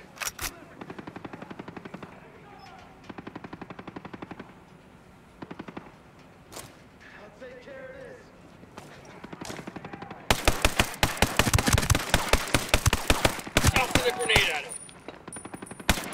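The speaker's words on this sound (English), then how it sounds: "Sniper's about to shoot at us! Sniper about to engage!" Automatic and single gunfire in the Ghost Recon Breakpoint video game, with rapid bursts of loud shots, short pauses, then a dense sustained volley near the end, under occasional voices.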